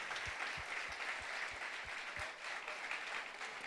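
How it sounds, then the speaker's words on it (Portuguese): Congregation applauding during a church worship service, steady dense clapping throughout, with rhythmic thumps underneath and no voices. "Vamos aplaudir a Jesus, porque ele vai te dar o melhor, amém?"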